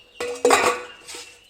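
Boiled elephant foot yam being moved onto a plate in a kitchen: two close clattering knocks of metal utensil on dish, the second louder, then a softer scrape.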